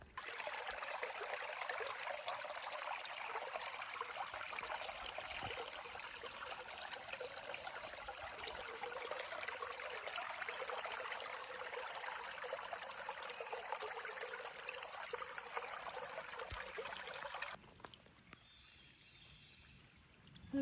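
A shallow stream on a park trail loop in York, Pennsylvania runs over rocks in a steady, close rushing wash that fills the scene, then drops away abruptly near the end, leaving a quieter ambience.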